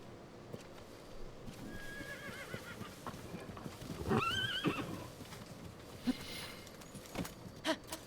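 A horse in the video game The Legend of Zelda: Tears of the Kingdom gives one clear whinny partway through, with soft hoof clip-clops and scattered game sounds around it and no talking.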